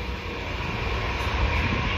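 A loud, steady roar of a jet aircraft engine, a broad continuous rumble with a high whine, close by and unbroken, no talking.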